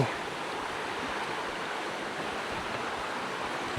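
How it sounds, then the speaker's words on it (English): Bluff Creek rushes steadily over its bed, a close, continuous wash of flowing water with an even level throughout and no voices. "Here's the creek."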